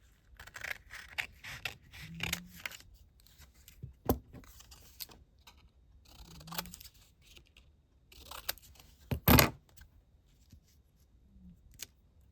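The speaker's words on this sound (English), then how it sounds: "I'm going to cut it out." Scissors snip out a paper piece for an insect-themed junk journal, making a few sparse, quiet cuts with light paper rustling and handling noises between them.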